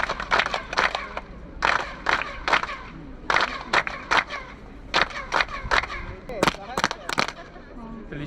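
A group claps in unison at the stone Chichen Itza pyramid in Mexico, each clap bouncing back as a sharp chirping echo, repeated in a steady series with a guide talking between claps.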